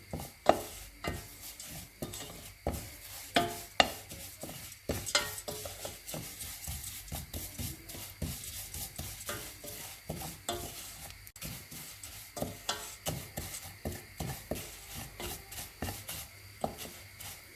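Vermicelli stirred and toasted in a pan for Lebanese rice, a light dry sizzle broken by irregular scraping and clacking of the spoon, fairly quiet and close, with no speech.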